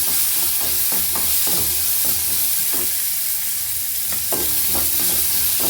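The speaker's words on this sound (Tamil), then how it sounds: "ஒரு 20 பல்லு உரிச்ச பூண்டு, அதையும் நல்லா வதக்கி விடுங்க" About twenty peeled garlic cloves sauté in hot oil in a pan, giving a constant loud sizzle with repeated scraping and stirring strokes from a spatula throughout.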